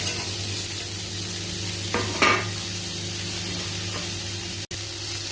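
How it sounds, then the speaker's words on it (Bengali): Peanuts and chopped onion frying in a pan with chilli and garlic, giving a steady close sizzle with a couple of brief stirring scrapes, no voices. "বন্ধুরা, এবার বাদাম আর পেঁয়াজ দেবো।"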